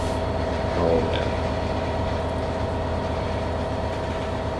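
Heavy freight train of worn cement wagons, about 2,000 tons, rolling slowly along the main line, heard as a steady close rumble of wheels and wagon bodies with a brief louder clatter near the start.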